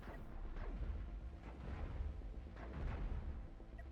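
A ship is blown apart in the space video game Cosmoteer: several deep, booming blasts in quick succession, fairly close and heavy, with whooshing debris between them and no talk.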